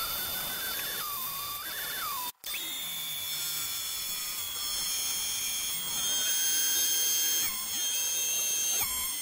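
A small high-pitched power drill whines steadily up close, drilling a 0.8 mm hole in the middle of a nozzle, its pitch shifting as it bites, with a brief break early on.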